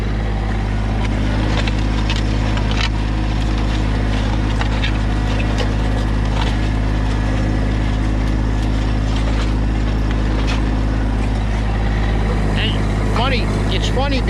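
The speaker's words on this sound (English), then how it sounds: "changed the oil on the tractor and it seems to be running better" A farm tractor engine, recently given an oil change, runs loud and close with a steady, low rumbling drone throughout while a food plot is fertilized, and a voice talks over it.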